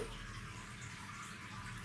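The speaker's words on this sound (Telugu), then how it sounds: "ఇప్పుడు ఇందులో మనం వాటర్ యాడ్ చేసుకోవాలి" Chicken-boiling water is poured in a steady, unbroken stream into a pot of fried chicken while making chicken biryani, giving a continuous, even splashing rush.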